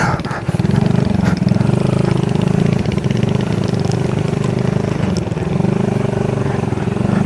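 Semi-automatic or trail motorcycle climbing a steep mountain dirt trail on the way to Bukit Argo Wulan near Mount Bromo, its engine droning loud and steady throughout with slight load changes, no voices.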